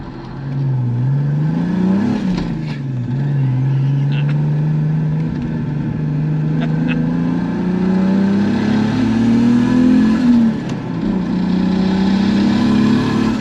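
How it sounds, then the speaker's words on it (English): A BMW 2.5 turbo engine fitted in a Volvo 940 revs up and down repeatedly, a loud continuous drone rising and falling in pitch, heard from inside the car. "That still just keeps revving though, doesn't it?"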